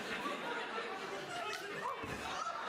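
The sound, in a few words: wrestling crowd chatter and cheering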